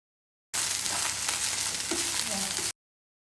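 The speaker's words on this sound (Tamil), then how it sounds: "இந்த பவுடரையும் சேர்த்து நல்லா பெரட்டி விடுங்க" Okra frying in a pan with ground dried chilli, groundnut and cumin powder, a dense steady sizzle with scraping stirring strokes, close and loud throughout.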